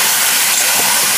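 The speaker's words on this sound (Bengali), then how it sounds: "আর দিয়ে দেবো উপর দিয়ে কিছুটা কাঁচা তেল।" Raw oil hitting a hot pan with mutton head, a loud, steady hissing sizzle that fills the short moment, close and alone.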